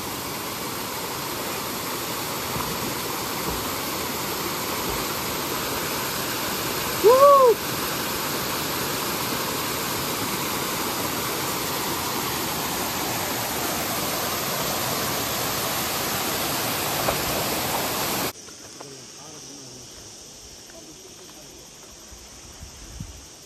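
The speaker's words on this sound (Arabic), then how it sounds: "ملي كتمشي تحت الشلال وكيبقى داك الماء كيضرب لك" Akchour waterfall in Morocco pours in a steady, dense roar of falling water that fills the scene at close range, with a brief high call partway through, before the rush abruptly drops to a much quieter flow near the end.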